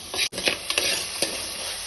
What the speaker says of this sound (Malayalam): തക്കാളി ആവശ്യത്തിന് അരിഞ്ഞിരിക്കുന്നതെല്ലാം ഇട്ടു.